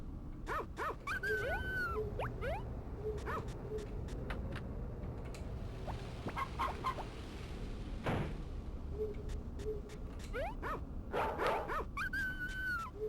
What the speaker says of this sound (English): What an aggressive dog sound.